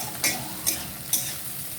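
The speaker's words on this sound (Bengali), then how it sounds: "দিয়ে দেবো একটু লঙ্কার গুঁড়ো শুধু একটু কালার হওয়ার জন্য দিয়ে ভালো করে নাড়িয়ে নেবো" Chilli powder is stirred into a sago snack mixture frying in a pan, with three distinct scraping strokes of a spoon over a steady low sizzle, close and fairly quiet.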